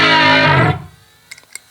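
Bass fuzz run through a Boss BF-3 flanger pedal gives a loud, thick distorted tone with a swirling jet-stream sweep that cuts off after under a second, followed by a few faint clicks.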